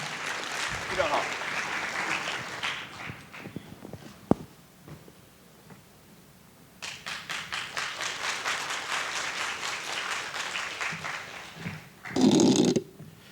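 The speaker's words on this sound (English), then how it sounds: "Thanks for the warm applause." Conference plenary audience applauds a government minister, starting with scattered clapping that fades to near quiet, then swelling into sustained, fairly loud applause from a large hall before a brief louder burst at the end.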